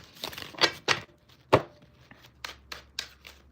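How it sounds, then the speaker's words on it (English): A deck of cards is shuffled close by, giving a series of short, sharp riffling and snapping bursts with brief pauses between them. "All right, one more shuffle."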